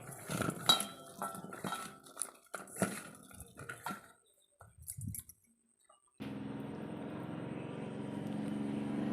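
Sliced onions for onion pakoda being mixed in a bowl, with close clinks and scrapes of a utensil for a few seconds, then a pause and a steady low background hum.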